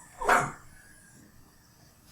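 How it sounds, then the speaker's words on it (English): A dog barks once, a single sharp, close bark that stands out against a quiet room, followed by near silence. "sorry, that was my dog."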